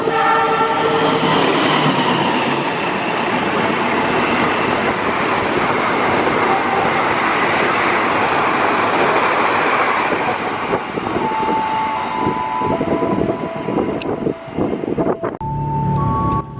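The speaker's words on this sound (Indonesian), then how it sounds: "untuk kereta api Argo Merbabu yang ini, entah kenapa jumlah kereta yang dibawa tidak ditambah" The Argo Merbabu passenger train, running nine executive cars, rolls past loudly and close, a continuous roar of wheels and carriages with clattering rail joints, and a horn-like tone rises briefly near the end as the noise thins.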